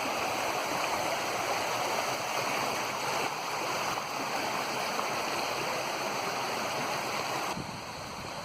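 Thick, muddy brown stream water laden with sediment pours steadily into Thunder Lake, a continuous broadband rush of flowing water that holds constant and fairly close throughout, with no talking.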